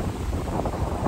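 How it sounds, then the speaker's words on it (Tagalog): Strong wind buffets the microphone along Manila Bay during a naval ship parade, giving a dense, loud rumbling roar that fills the whole moment with no speech. "malakas nga po ang hangin"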